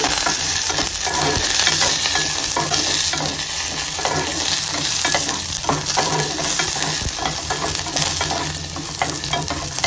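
Garlic, dry red chilies, a bit of tamarind and curry leaves fry in hot oil for a spicy onion chutney while a spoon stirs them. A loud, steady crackling sizzle with scraping runs throughout, and no one speaks.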